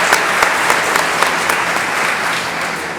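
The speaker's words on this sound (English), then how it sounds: "You can clap for that." Sustained audience clapping at an annual partnership meeting, dense and even throughout with a few sharper individual claps standing out, and no talk on top.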